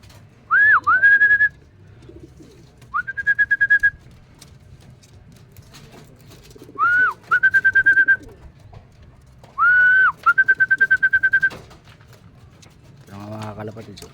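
Racing pigeons, young birds kept by a breeder, give repeated cooing calls in bursts of two or three, fairly close, with quiet gaps and background noise between them.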